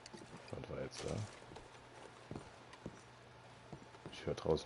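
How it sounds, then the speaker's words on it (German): Horses in Red Dead Redemption 2 clip-clop outside in scattered, fairly faint hoof beats, with a low hum and a voice speaking over them. "Ich höre draußen schon wieder Pferde."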